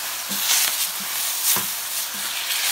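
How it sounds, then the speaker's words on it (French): Sizzling on a hot plancha griddle as it is deglazed while rabbit cooks: a steady, bright hiss with short spitting bursts, close and moderately loud, no voices. "Je vais maintenant déglacer un peu la plancha."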